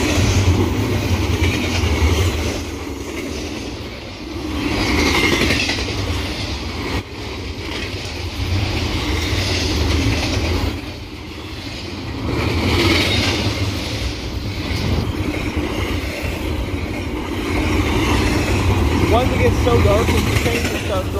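A Union Pacific intermodal freight train with a Norfolk Southern unit rolls through a railroad crossing on Missile Base Road, a steady loud rumble of cars and wheels lasting throughout with slight swells, no talk over it.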